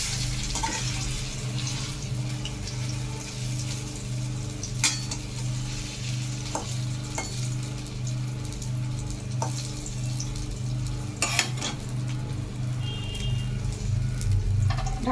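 Egg chops fry in a pan with a steady close sizzle, punctuated by occasional clinks and scrapes of a utensil as they are turned.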